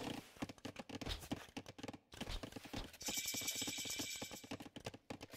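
Horses in the strategy game Age of Empires: rapid clip-clop hoofbeats in dense rhythmic bursts, fairly faint, with a brief gap and then a bright chiming effect layered over continued hoof patter.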